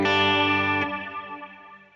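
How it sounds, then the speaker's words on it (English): Guitar chord played through a 70s-style chorus modulation on a Line 6 Helix, sustained and shimmering. A single loud strum rings out, then decays gradually over two seconds with a warbling, doubled tone. "maybe add even another variety of modulation in there, maybe a 70s chorus"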